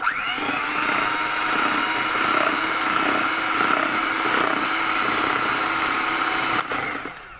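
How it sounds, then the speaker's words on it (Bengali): An electric hand beater whirs steadily while whipping eggs for a tiramisu pudding cake, a continuous high motorized drone with a faint rattle of beaters in the bowl, close and unbroken until it cuts off near the end. "তো আমি এখন বিট করে নেব বিটারের সাথে"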